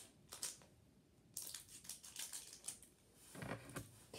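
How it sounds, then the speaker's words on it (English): Scissors snipping open a foil trading card pack, a quiet string of sharp crinkly cuts and rustles with short pauses between them. "I'm using scissors to open it so it can be the lucky pack"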